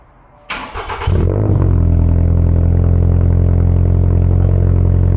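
A Honda car engine cranks and catches with a short burst of noise, then settles into a loud, deep, steady rumbling idle close by.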